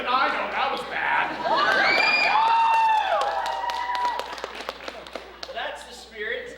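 A crowd cheers and shouts together, with children's voices and whoops swelling into a loud, sustained roar that fades into scattered clapping and calls.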